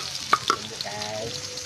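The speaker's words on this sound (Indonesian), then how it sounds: "Itu kita masukkan bawang merah yang ditumbuk." Pounded shallots hit a hot pan and sizzle steadily, with a couple of sharp stirring clinks early on, close and moderately loud.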